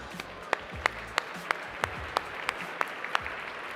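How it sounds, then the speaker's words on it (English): Applause from the audience at the 2021 Voyager Media Awards, honouring Zara, a health journalist. Steady crisp claps land in a fairly even rhythm over a soft wash of room noise, moderately close and not very loud. "A big round of applause for Zara."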